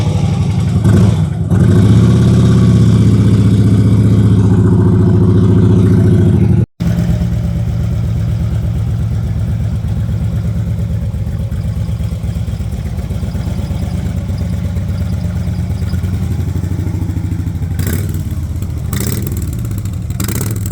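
A 2008 Harley-Davidson Ultra Classic Electra Glide 105th Anniversary with sidecar runs loud and close, swelling in a rev early on, then settling into a steady low rumbling idle, with a brief cut partway through.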